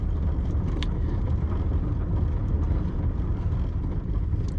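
A Volvo 240 driving on a country road in the Småland countryside near Växjö, heard as a steady low engine and road rumble from inside the car, continuous and even.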